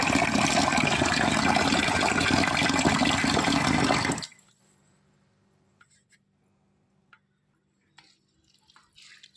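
Rice is washed and rinsed in water for cooker rice, giving a loud swishing, running-water sound for about four seconds, then near silence broken only by a few faint drips.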